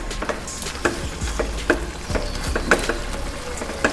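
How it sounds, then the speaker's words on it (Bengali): A prawn curry with a pinch of garam masala is stirred gently in a pan, giving a close, regular series of scraping strokes over a low simmering sizzle. "একটু হালকা হাতে নেড়ে চেড়ে মিক্স করে নিয়ে"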